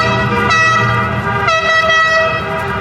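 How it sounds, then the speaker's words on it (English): Loud, sustained horns blare through street traffic, with two long harmonic blasts starting about half a second and one and a half seconds in, ringing over a steady rumble. "there's a lot of honking I didn't even think about."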